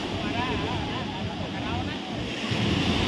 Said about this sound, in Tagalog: Grabe ka kusog sa hangin guys. Balod pa gud.